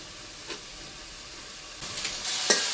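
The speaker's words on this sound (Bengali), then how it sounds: "আস্তে আস্তে জাল দেব এবং নেড়ে চেড়ে মশলাটা ভালো করে কষাই নেব" Mustard paste masala being stir-fried in a pan for a river fish curry, a soft continuous sizzle with a few scraping stirs of a spatula, quiet and close.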